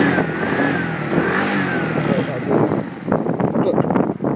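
A TGB R125X motorbike engine revs up with a rising whine, then the revs drop away and it settles toward idle, heard close by with someone talking over much of it.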